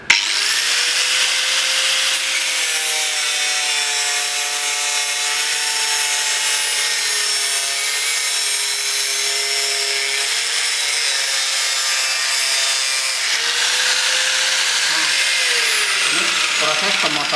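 An angle grinder cuts into wood without being pressed down, its motor whining steadily close by with a rasping grind that shifts in pitch midway and again near the end.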